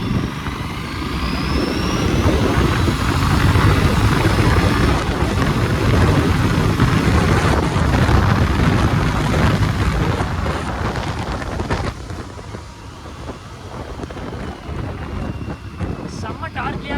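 An Aprilia RS 457 motorcycle accelerates hard in traffic, its engine roar mixed with heavy wind buffeting on the microphone, loud and continuous before easing slightly toward the end.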